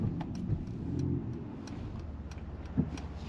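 A 2024 Mercedes-AMG GLE 53 4Matic+ SUV with 429 hp, cornering in Sport Plus mode, gives a steady low engine rumble inside the cabin with a couple of soft thumps.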